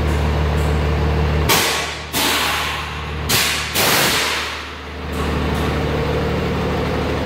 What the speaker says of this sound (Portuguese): E agora a suspensão a ar com as válvulas de 1 polegada.